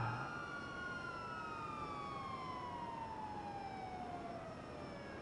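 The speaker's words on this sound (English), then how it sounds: "Only the sweet, annoying sound of sirens." Sirens wail in the open-world game GTA Online, a single rising and falling tone with several harmonics drifting slowly downward, steady and moderately distant, with no one talking.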